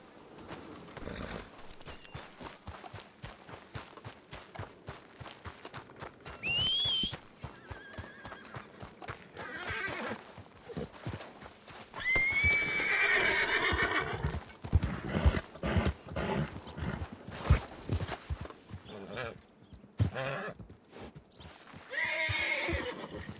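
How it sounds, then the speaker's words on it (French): A horse neighs and whinnies loudly several times while its hooves clip-clop on the ground in an uneven walking rhythm, close by, with no talk over it. "Je vais prendre mon cheval."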